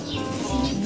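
An inbred racing pigeon from a Heremans Mona Lisa line, heard in a short burst of close wing flapping mixed with a low coo, all within a single second.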